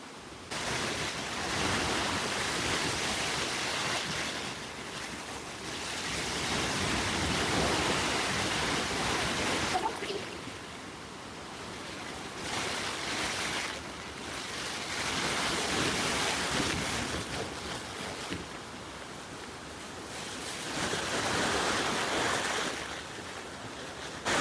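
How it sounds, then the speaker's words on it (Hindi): A waterfall on a family road trip near Saputara pours down in a steady, loud, broadband roar of rushing water that swells and eases in long waves, with no voices. "ये गिरा धोध दिखने में वाकई में लाजवाब है।"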